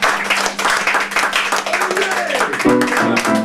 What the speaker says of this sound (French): Et on peut l'applaudir pour ça déjà aussi.